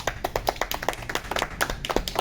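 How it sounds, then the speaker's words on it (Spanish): A small audience claps for a guest, a constitutional lawyer, at a panel on separation of powers, with sparse, fairly quiet hand claps in an uneven patter. "un aplauso para él, por favor"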